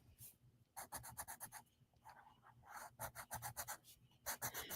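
Basic colored pencil rubbing across paper in quick, close scratchy strokes, bursts of rapid back-and-forth shading separated by brief pauses, quiet and alone.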